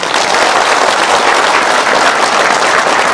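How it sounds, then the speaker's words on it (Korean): Dense, loud applause from a lecture audience at a Korean patriotic group event, filling the whole stretch evenly with a faint crowd murmur beneath. "다시 한번 박수 부탁드리겠습니다"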